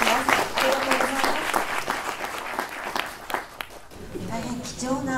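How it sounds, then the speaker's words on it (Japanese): Applause from a symposium audience at a photography event in a hall, steady clapping at moderate loudness with a voice speaking over parts of it. "もう一度拍手をお願いいたします。"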